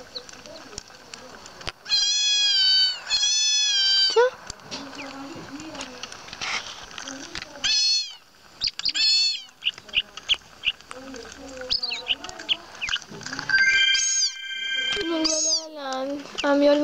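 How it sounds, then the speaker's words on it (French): A cat in the Nintendogs+Cats game gives a string of very high, thin meows, several of them in quick bursts, with brief pauses between. A person speaks in between the cries. "son miaulement est très très aigu, et alors là, c'est extrêmement aigu"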